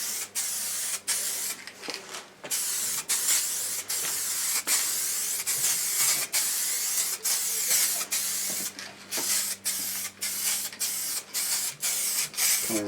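A spray gun lays liquid wrap onto a Triumph Tiger motorcycle in a loud, close hiss. It comes in repeated bursts of a second or so, broken by quick pauses as the trigger is released.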